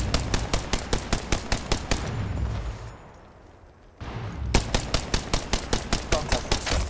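Apex Legends gunfire: steady, rhythmic automatic shots fired in fast bursts, loud and close, broken by a brief lull of quieter game noise before the rapid firing resumes.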